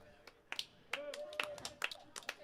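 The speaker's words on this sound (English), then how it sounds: "Scattered light applause, please." Scattered light applause from a small audience at a main-stage show: a handful of separate, uneven claps that are faint and distant, spread across a couple of seconds.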